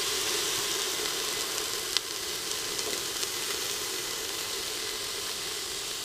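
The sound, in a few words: green peppers sizzling as they are dumped into the Instant Pot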